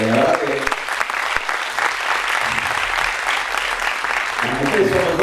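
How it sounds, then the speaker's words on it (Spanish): A small audience gives Analía a round of applause during an interview about a doctor-patient book, dense clapping throughout with voices murmuring and calling out over it, fairly close and loud. "Hay que hacer un aplauso, Analía"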